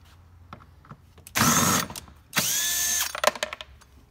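Two loud bursts of a power drill whirring while removing a screw to take out a Chinese scooter seat, each about half a second to a second long, with small clicks and taps between them.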